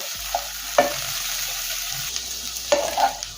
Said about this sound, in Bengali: এখন গ্যাসের ফ্লেম মিডিয়ামে রেখে 10 মিনিটের জন্য ভাজা ভাজা করে নেব।